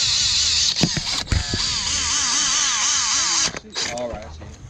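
A power drill whines loudly and steadily as it bores a hole in the grille of a Dodge Challenger, with its pitch rising and falling and brief pauses near the end; voices talk faintly underneath.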